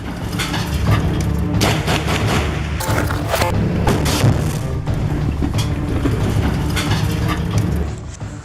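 An improvised explosive device strikes an Israeli Merkava tank, producing dense, loud rumbling blasts and booms that fill the whole stretch before fading at the end.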